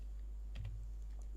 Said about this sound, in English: why did I type TX?